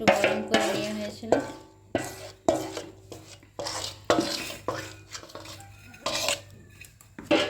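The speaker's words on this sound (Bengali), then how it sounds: "এখানে আতপ চাল, সেদ্ধ চাল আর তালের মাড়ি একসাথে মিক্সড করে নেওয়া হচ্ছে" Raw rice, boiled rice and palm pulp warmed with jaggery are stirred together in a bowl, giving repeated scraping and clinking knocks of a utensil against the dish in an uneven rhythm, close and fairly loud with no talk.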